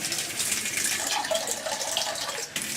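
Steady water running from a tap, a continuous close hiss and splash without pause.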